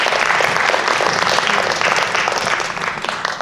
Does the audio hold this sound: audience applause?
yes